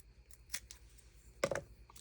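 Scissors snipping a small strip off a piece of paper card for a handmade greeting card, giving a couple of quick, close, crisp cuts amid faint rustling, with no talking.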